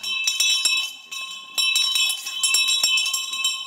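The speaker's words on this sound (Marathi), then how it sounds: "बाबानो बेल देतोय रे" A bell signals the start of a stage play in a comedy show. It rings loudly in rapid, repeated metallic strokes with a short pause near the middle, and no voices are heard.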